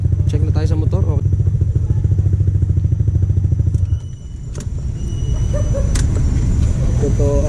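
A motorcycle engine running up close during a 750 km endurance ride: a loud steady idle putter that drops and sputters briefly, then settles into a rougher running note, with a voice talking over it.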